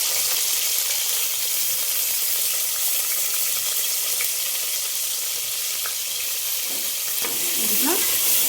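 Chopped onion and bay leaf frying in hot oil, a steady, close sizzle running throughout with occasional stirring scrapes near the end.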